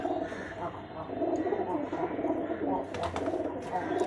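Giribaz pigeons, a Bangladeshi high-flyer breed, coo in soft repeated rolling calls close by, with a voice speaking over them and brief rustling near the end.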